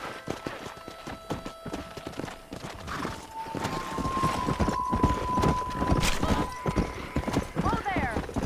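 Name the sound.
horse riding hoofbeats in Red Dead Redemption video game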